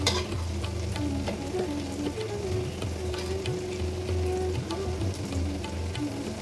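Vada sizzles and crackles in hot oil in a kadai for vada curry, a dense continuous frying hiss with occasional stirring clinks and pops, close and steady with no talk.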